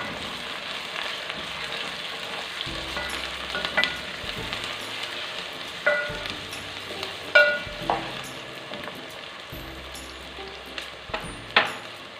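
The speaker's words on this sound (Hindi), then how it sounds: "एक खाने के चम्मच इसमें मैं डाल रही हूँ लहसुन अदरक का पेस्ट। तो फ्राई कर लेते हैं।" Garlic ginger paste sizzles and fries in oil in a pan while cooking rajma, a steady crackle close by with intermittent stirring scrapes and clinks from a spoon.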